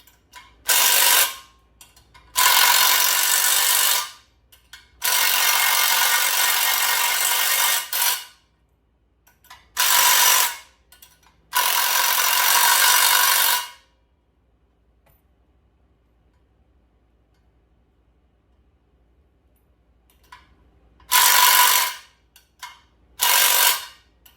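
Bolts on a Ford 351 Cleveland engine with stock iron heads are run in with a loud power tool, several sharp bursts of varying length separated by silent gaps, close and harsh.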